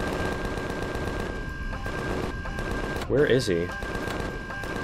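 Turret gunfire in the game Empyrion, a rapid burst of shots rattling under an ongoing rumble of battle noise, while someone speaks briefly.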